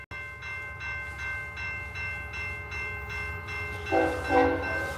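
A BNSF freight train led by an SD7 locomotive rolls past with a steady rumble and repeating wheel clatter, a sustained horn tone running throughout and swelling louder near the end.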